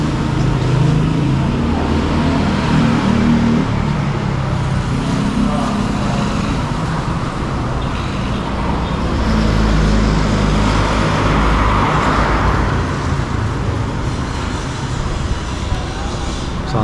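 A 2023 Kia Stonic LX automatic with a 1.4-liter, 100-horsepower engine on the move, giving a steady interior drone of engine hum and road noise that holds level throughout.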